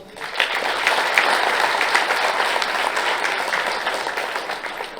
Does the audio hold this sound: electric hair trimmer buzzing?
no